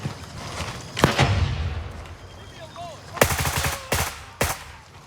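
Gunshots in the Gray Zone Warfare video game, with a single sharp crack, then a sustained automatic burst and two more loud shots, separated by quieter stretches.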